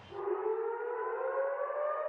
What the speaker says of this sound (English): And in the West Bank, warning sirens echoing through Bethlehem.